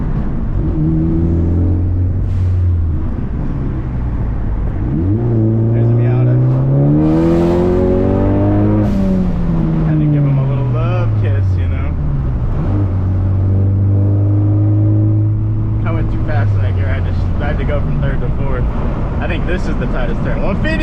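A Ford Focus ST engine pulls hard uphill on the winding Lime Creek road, its revs climbing and falling through gear changes with a steady loud drone and rising whine throughout.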